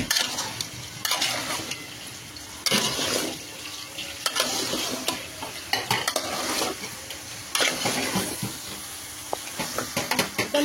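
Masala being stirred and fried in a pan, close sizzling with bursts of scraping spoon strokes in uneven waves, loud against a quieter background hiss.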